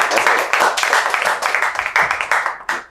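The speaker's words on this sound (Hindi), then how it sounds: "तो चलिए एक बार राम प्रताप सर के लिए भी ताली बजाते हैं।" A classroom audience at an AC PCB repair training institute claps for an instructor, a dense, loud burst of many hands that rises quickly and fades after about three seconds.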